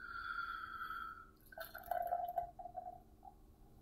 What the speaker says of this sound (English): Let's go ahead and give it a pour in the Pabst glass.